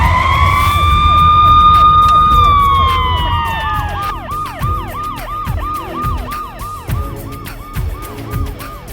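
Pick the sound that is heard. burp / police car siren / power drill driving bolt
police car siren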